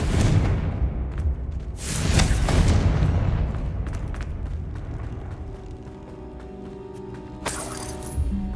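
Confringo fire spell explosion in Hogwarts Legacy: a heavy booming blast with shattering debris, followed by a second burst and rumbling decay, then crackling fragments and a sharp final crash, loud and close with no talk.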